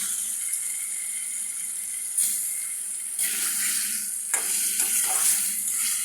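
Shing catfish pieces sizzle loudly as they drop into well-fried spice paste in a pan for a raw banana curry, a steady hiss that swells in bursts as the fish goes in and gets stirred.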